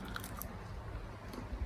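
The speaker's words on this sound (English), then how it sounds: "I am going to try one of the chips." Salt and vinegar crisps being bitten and chewed close up, a faint crunching under low background noise over a couple of seconds.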